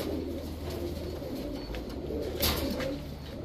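A male Chuithal red-gear pigeon with a white back and black tail coos in low, repeated throaty calls, close by and steady, with faint background noise and no talking.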